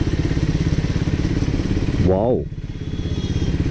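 A Triumph Speed 400 motorcycle rides in third gear with a steady, close engine drone and rhythmic exhaust pulsing, briefly swelling and shifting pitch midway before settling back, while a rider's voice exclaims over it.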